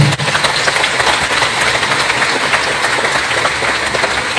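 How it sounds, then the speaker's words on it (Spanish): A church congregation applauds two brothers, a loud, dense wash of clapping that stays steady and close throughout without letting up. "Aplausos para los dos hermanos."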